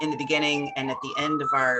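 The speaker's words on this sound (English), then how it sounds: "sorry about the siren" An emergency siren passes outside during an indoor workshop talk, its rising and falling wail faint and steady beneath continuous speech.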